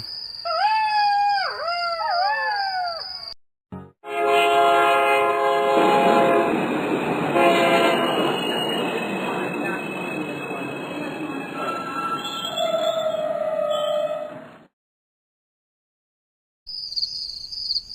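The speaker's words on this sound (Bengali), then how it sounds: "সে গায়ে ছেলে সুমন শহর থেকে গায়ে ফিরতে ট্রেনটা বেশ কিছুক্ষণ দেরি করে ফেলেছে" A cartoon train rumbles loudly past with a long blaring horn and squealing wheels, preceded by chirpy sweeping tones; the horn rings on alone before a brief silence.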